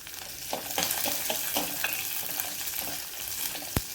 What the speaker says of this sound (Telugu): ఉల్లిపాయలు ఎక్కువ వేగక్కర్లేదు కొద్దిగా వేగితే సరిపోద్ది